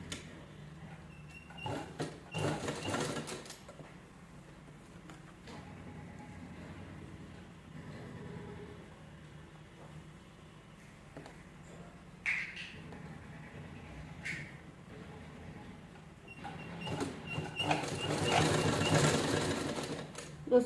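Sewing machine stitching a purse strap, with quiet intermittent whirring bursts and soft handling clatter spread across a long stretch, growing louder near the end.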